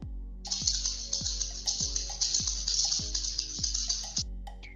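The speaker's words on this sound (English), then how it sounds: "This is from a maracas." Maracas shake in a steady, busy rattle over a soft repeating kick-drum beat, the hissy shuffle continuing for about four seconds before stopping.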